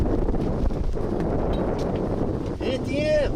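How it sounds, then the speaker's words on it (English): Wind blows steadily outdoors at an air rifle range, a continuous rumbling buffet across the microphone, with a faint whistling tone near the end. "Let's try the 275s once the wind slows down a little bit."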